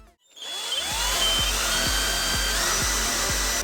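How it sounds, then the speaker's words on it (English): A power drill bores holes in a Porsche 981 transmission pan, its whine rising as the motor spins up and then holding steady and loud, with regular rhythmic thumps underneath. "you will also need to drill holes."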